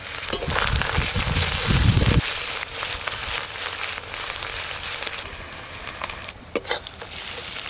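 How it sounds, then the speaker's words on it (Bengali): Chopped tomato tossed into a pan of well-fried onions for a spicy silver carp fish curry, a loud steady sizzle with a heavier scraping burst early on, then continuous frying hiss with occasional stirring knocks. "পেঁয়াজ কুচিগুলো বেশ ভালো করে ভাজা ভাজা হয়ে গেছে, এবার টমেটো কুচি দিয়ে দেবো"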